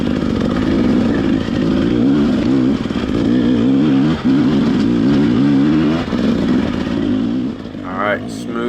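An off-road motorcycle climbs a steep trail hill in Park Hills under steady throttle, its engine loud and close with a constant droning growl that dips briefly near the end, and someone talks over it.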